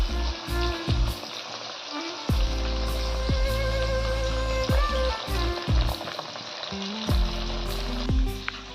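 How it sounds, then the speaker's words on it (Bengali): Tangra fish fry in hot oil in a home kitchen, a constant crackling sizzle broken by sharp spits and occasional clinks of a utensil against the pan, close and loud. "মিডিয়ামভাবে ট্যাংরা মাছগুলো বেশ ভালো করে ভেজে নিতে হবে।"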